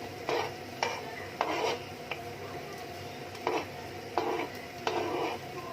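Beef shin being stirred in a pot for pares, a spoon scraping and clinking against the pot in short, irregular strokes over a low steady background.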